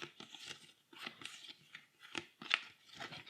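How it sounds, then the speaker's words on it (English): Cards from the villain deck of X-Men: Mutant Insurrection are shuffled by hand, giving a run of quick, close, crisp riffling bursts in an uneven rhythm, with no talk over them. "we'll shuffle it up."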